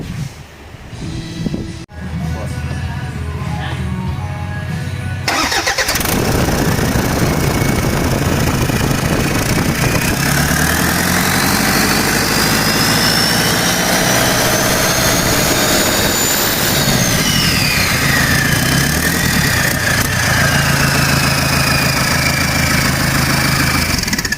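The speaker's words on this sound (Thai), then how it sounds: "ผมติดเครื่องเรียบร้อยนะครับ ใส่อุปกรณ์ครบหมดเรียบร้อยแล้ว เสียงเงียบมาก เพราะว่าท่อมีพักนะครับเสียงเงียบมาก" A Toyota Vigo turbo diesel, upgraded to a larger 3000 turbo with a tuned ECU, idles steadily through a muffled exhaust, giving a continuous low rumble with a rising whistling turbo whine layered above it and no speech.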